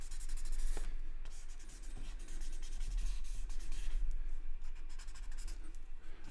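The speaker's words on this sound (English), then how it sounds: "Just put some shadow on the outside of it, just by using the graphite that we've already grabbed from the rest of the drawing" Graphite pencil shading a drawing on paper, spreading graphite already laid down elsewhere on the sheet: close, continuous soft scratchy rubbing in quick back-and-forth strokes, steady and fairly quiet, with no voices.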